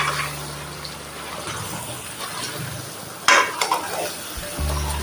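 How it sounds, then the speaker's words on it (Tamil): Chicken pieces frying with green mango, onion and coconut in a pan, a steady sizzle with scraping spoon strokes and clatter midway, close and moderately loud. "இப்போ இது நல்லா கிண்டி விட்டு ஒரு 2 நிமிஷம் விட்டுடலாம்"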